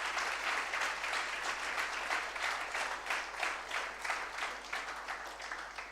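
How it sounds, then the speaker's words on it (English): An audience at a live hackathon event in Vizag gives the guests a sustained round of applause, with dense, steady clapping holding throughout. "I want to give a big round of applause"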